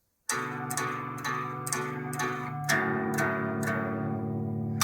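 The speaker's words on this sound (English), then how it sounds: "So you've got 5 strums and then change onto your bottom string and do 3 strums." Eight even strums on a guitar from a lesson: five on one ringing chord, then a switch to a lower-sounding chord on the bottom string for three more, played close and clear.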